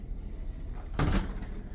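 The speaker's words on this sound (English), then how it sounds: "nice deep drawers, ball bearing slides, and it feels like everything will lock in place" A deep cabinet drawer in a 2017 Discovery LXE 40E motorhome rolls on ball bearing slides, giving one short, close thud as it shuts amid quiet room sound.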